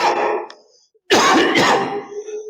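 A child patient with a cold coughs and clears her throat in two loud bursts, the first short and the second longer and rougher, with a brief silence between them.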